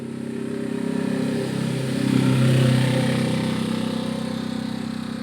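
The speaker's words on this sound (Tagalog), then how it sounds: "Ingay na motor ah" A steady motorcycle engine drone in the video game Little Nightmares, a low, buzzing hum that swells briefly in the middle before settling back to an even idle.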